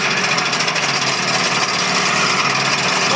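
A STIHL FS 400 brushcutter's small two-stroke engine runs steadily after starting, a loud, continuous high buzzing drone close by with no speech.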